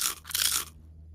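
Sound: dry sagebrush plant stem crunching when touched

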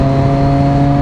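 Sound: Triumph Daytona 675R motorcycle engine while riding

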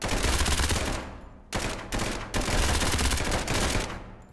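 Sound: gunfire from guns in an SCP video game

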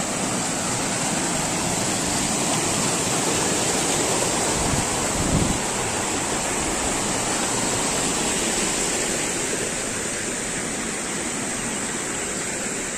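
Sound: flowing water

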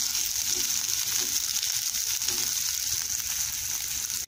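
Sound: cluster beans (guar) frying in oil on low flame

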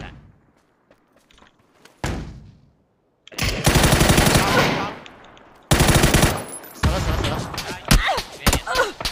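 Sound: gunfire in a video game

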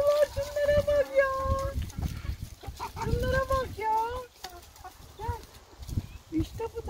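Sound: chickens clucking while eating watermelon

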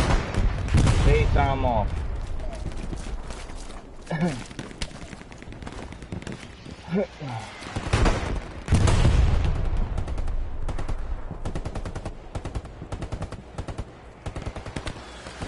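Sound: gunfire in the video game Hell Let Loose

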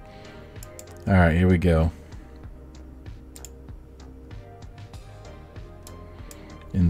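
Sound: computer mouse clicking

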